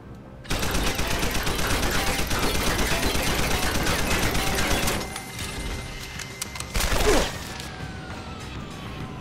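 Turret gunfire in Deus Ex: Human Revolution: a loud, rapid, continuous burst of automatic shots for about four seconds, then a scattering of sharp impacts and crashes fading down, with no talking.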